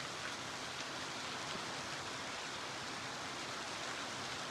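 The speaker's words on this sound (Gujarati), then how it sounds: "વરસાદ" Rain pours continuously, a broad wash of hiss holding at an even level throughout, with no talking.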